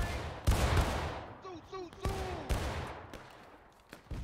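Musket fire at a nighttime Civil War reenactment battle, with several sharp, loud shots at irregular intervals through the battle noise and distant whistles or horns, while people shout and talk nearby.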